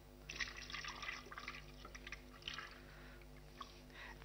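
Tomato juice poured into a Sangrita drink in a kitchen, a quiet liquid trickle and splashing for a few seconds, close and soft over low background hum.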